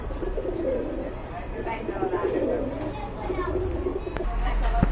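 Danish pigeons coo softly and repeatedly at close range. Other birds call in the background, and there is handling noise from a pigeon sale setting.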